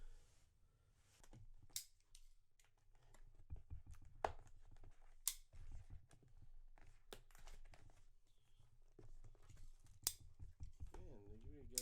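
Knife slicing through packing tape on a cardboard box holding a wood and aluminum monitor stand with a Type C docking station, heard as a handful of sharp, close cutting and ripping bursts amid crinkling, with faint talk in the background.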